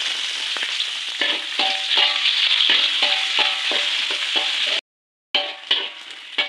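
Garlic and shallots stir-frying in hot oil for a banana blossom dish, a loud close sizzle with rhythmic spatula scrapes and clanks against the pan, briefly cut off before resuming.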